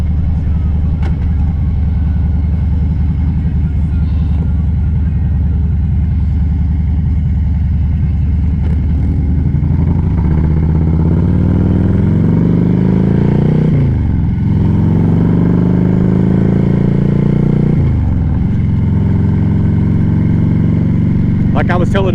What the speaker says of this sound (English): you cannot beat the sound of the pipes on a Harley